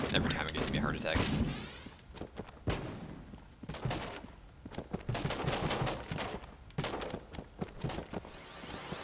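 Cannon fire in the video game Enter the Gungeon booms in loud repeated blasts amid dense bursts of rapid gunfire and whooshes, with a voice speaking over the action.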